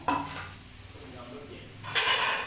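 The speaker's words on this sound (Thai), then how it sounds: "จะมาคั่วเครื่องต้มยำกันนะครับ" Tom yum herbs dry-roasting in a pan, heard as a steady low rustling hiss with soft scraping bursts of a utensil at the start and end.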